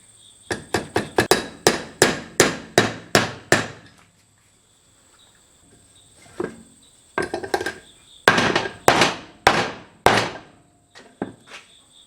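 Hammer driving a wheel bearing race into a Land Cruiser E70 front hub using the old bearing as a driver: a fast run of sharp metallic blows, a pause, then further bursts of ringing strikes, close and loud, no talk.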